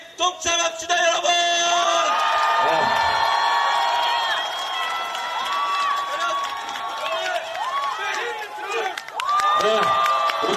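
A large crowd at a political rally in Busan cheers and shouts, voices rising and falling in a sustained roar with scattered whoops.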